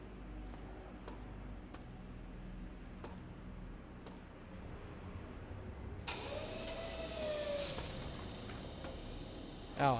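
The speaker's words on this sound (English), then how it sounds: "Oh, that's an elevator, okay." An elevator in the System Shock remake: faint scattered ticks give way midway to a steady mechanical whine and hum as the car starts moving, ending in a brief clunk.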